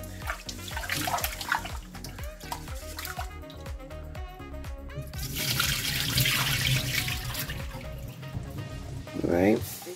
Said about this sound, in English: let's clean that rice